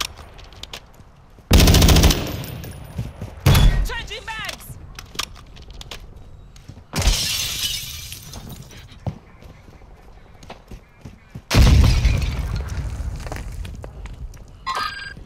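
Loud bursts of rapid gunfire and explosions from Call of Duty: Modern Warfare 2 multiplayer arrive in several heavy blasts separated by quieter stretches of footsteps and game noise, with a voice speaking in between.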